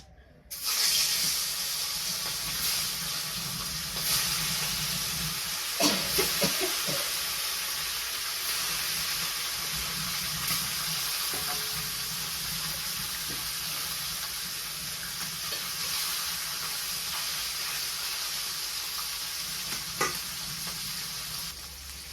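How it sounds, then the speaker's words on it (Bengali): Fish frying in hot oil in a wok, a steady loud sizzle that runs through the whole stretch, with a few stirring clinks and brief splashy bursts partway through and no talking. "কড়াইতে তো তেল দিয়ে দিছি তেল তাপে গেছে মাছ দিয়ে দিই"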